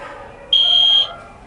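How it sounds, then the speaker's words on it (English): A classroom fire alarm sounds in one loud, steady electronic tone lasting about half a second, standing out sharply against a quiet room. "Is that the fire alarm?"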